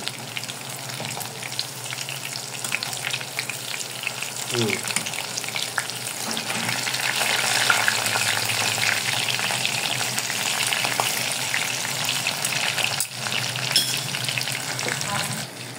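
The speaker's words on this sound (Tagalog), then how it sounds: "So, ngayon, gagawin natin prito." Oil sizzles and crackles steadily as fish fries in a pan, with occasional scraping and stirring clinks throughout, no talking.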